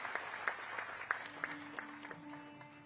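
An audience at a public event welcoming Gujarat Chief Minister Bhupendra Patel claps in a sparse, rhythmic way. The claps are fairly faint and evenly spaced, and a steady tonal hum enters toward the end.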